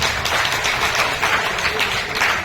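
Steady applause from a large audience at a comedy show during a laughter festival, a dense wash of many hands clapping together that stays loud and even from start to finish.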